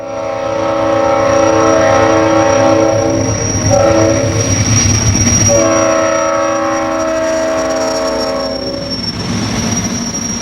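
A steam locomotive's horn blares in long sustained chords over rumbling rail noise, pausing briefly midway before sounding again, then fading.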